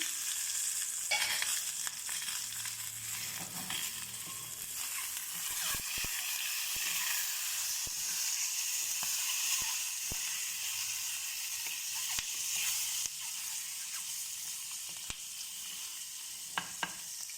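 Egg frying in oil in a pan gives a steady, close sizzle with bright crackling and occasional sharp pops and stirring clicks throughout, with no voices.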